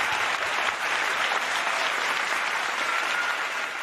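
Steady applause from the audience at a peace festival right after a traditional Cambodian dance performance, dense and even at moderate loudness with no break throughout.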